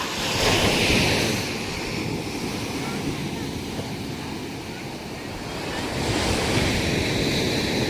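Sea waves rolling onto a beach, with a steady broad wash of surf swelling louder near the start and end, rough wind buffeting across the microphone throughout, and no clear speech.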